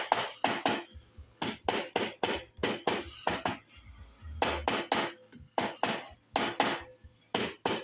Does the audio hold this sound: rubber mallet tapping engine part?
yes